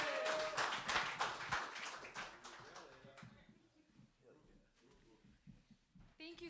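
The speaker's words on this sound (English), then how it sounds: "let's put our hands together for Layla Goldberg" A comedy-night audience claps and applauds for a comedian, a loud burst of clapping that fades out after a few seconds into quiet room noise with faint voices.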